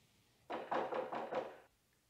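Knocking on a front door: four or five evenly spaced, muffled thuds in quick succession, fairly quiet and heard alone.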